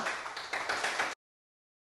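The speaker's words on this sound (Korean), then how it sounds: "박수 한번 쳐야 되는 거 아닌가요?" A small group claps in a short burst of overlapping hand claps, fairly soft and close, stopping abruptly into silence before a brief return at the very end.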